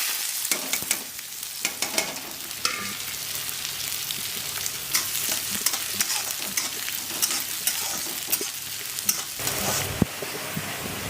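Cumin and onions fry in oil over lowered heat while being stirred for a leftover-rice recipe, making a continuous crackling sizzle punctuated by sharp scraping stirs throughout, fairly close and without talking.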